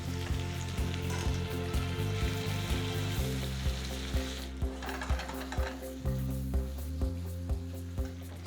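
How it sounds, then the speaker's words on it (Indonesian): Dendeng batokok, flattened Minangkabau beef, is stirred into hot, sizzling sambal in a pan, with a continuous close fry hiss under rhythmic utensil clacks against the pan, roughly two per second, throughout. "Ini kita bisa langsung masukkan dendeng batokonya dan kita aduk rata."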